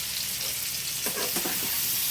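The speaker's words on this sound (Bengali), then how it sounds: "আমি আলুটা একটু নেড়ে দিই" A steady, soft sizzle of potatoes frying in a pan, with a brief burst of scraping as they are stirred midway.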